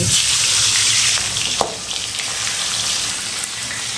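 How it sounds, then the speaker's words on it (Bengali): Fish heads fry in hot mustard oil for a Bengali muri ghonto, making a loud, continuous close sizzle with a few sharp stirring clicks. "তখন এর মধ্যে মাছের মাথাগুলো দিয়ে খুব ভালো করে ভেজে নিতে হবে"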